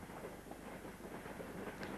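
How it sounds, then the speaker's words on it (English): Two British Rail Class 76 electric locomotives haul a merry-go-round train past Kendall Green crossing on the Woodhead route, a steady close rumble with a faint rhythmic wagon clatter throughout, with no talking. "2 Class 76s pass Kendall Green crossing on a merry-go-round working."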